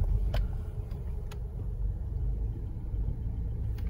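A car turning and pulling in to park outside, a steady low engine rumble with road noise, close and continuous, with a few faint clicks.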